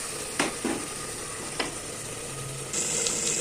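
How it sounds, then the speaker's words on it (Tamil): Brinjal mutton semi gravy bubbling in a pot, a soft steady simmer with a few light clinks and scrapes of a spoon, and a brighter hiss near the end. "நல்லா கொதிச்சுட்ருக்கு."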